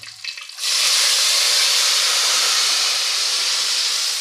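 Water poured into a hot pan while cooking rice upma with brinjal: after a brief quiet clatter, a sudden loud, close steam hiss bursts up and holds steady, slowly easing.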